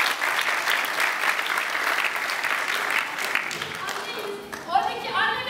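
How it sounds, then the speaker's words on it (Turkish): An audience at a public talk in Mardin applauds steadily for several seconds, dense even clapping from a roomful of people, fading near the end as a voice starts talking. "Alkışlayın ablamızı."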